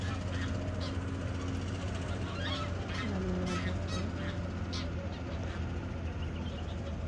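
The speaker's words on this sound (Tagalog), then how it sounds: "Ang gansa pala to." Geese honk at a lake in Dubai amid a dense, noisy outdoor background of birds, with several honks rising above a steady low rumble and a voice talking nearby.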